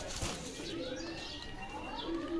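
Pakistani breed pigeons cooing softly in a loft, low gentle coos with faint chirps and a brief flutter, fairly quiet and distant.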